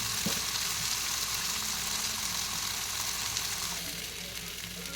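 Fish fries on a tawa with a soft, even hiss that fades slightly toward the end. It stays moderately faint and steady, with no talking.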